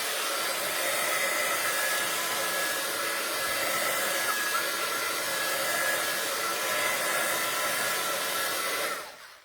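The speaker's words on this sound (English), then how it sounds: "And I will dry it just to be on the safe side." A hair dryer blows steadily and loudly at close range while drying a handmade card, a continuous whooshing roar that runs unbroken before switching off at the very end.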